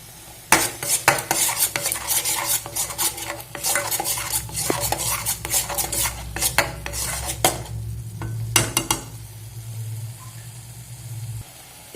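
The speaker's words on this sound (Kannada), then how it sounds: "ಇದೆಲ್ಲ ಮಿಕ್ಸ್ ಮಾಡ್ಕೋತೀನಿ" A spoon stirs coriander powder and turmeric into a cooking pot for a bottle gourd and black-eyed pea gravy, scraping and clinking steadily against the metal, close and fairly loud, over a low simmering sizzle with a pause near the end.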